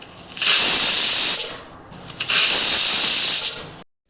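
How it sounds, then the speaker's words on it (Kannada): A pressure cooker with tomato pulao inside lets off two loud, close bursts of hissing steam whistle separated by a short dip, then cuts off abruptly. "ಈಗ ಕುಕ್ಕರ್ ಮುಚ್ಚಳ ಮುಚ್ಚಿ 1-2 ವಿಷಲ್ ಕೂಗಿಸ್ಕೋಬೇಕು"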